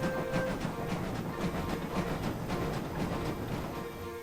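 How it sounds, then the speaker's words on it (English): Two railway engines push a train up an incline, their wheels slipping at first. Steady rhythmic chuffing and rumbling carry throughout at moderate volume, with no voices. "The two engines put down all their might, sure slipping and sliding at first"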